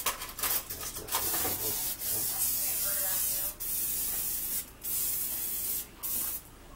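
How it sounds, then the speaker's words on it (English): Olive oil cooking spray hisses onto a pan in several close bursts of about a second each, separated by brief pauses, loud and airy with faint handling noise at the start. "Olive oil. And so, I'm going to spray the pan."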